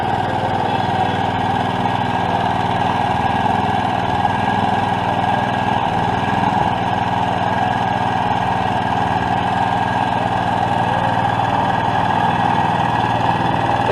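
Loud, steady engine drone of a lawn mower running without cutting anything, a constant buzzing hum that holds level throughout with no voices.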